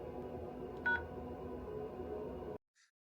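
A single telephone keypad tone sounds briefly over a recorded phone line's background hum, and a faint second beep follows after the line goes quiet.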